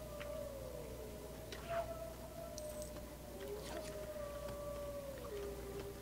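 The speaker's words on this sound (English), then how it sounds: "Just listen to the wolves howl in the background." Wolves howling in the Forbidden Forest of the LEGO Harry Potter video game, long wavering tones drifting up and down over a low ambient drone, with occasional faint game sounds.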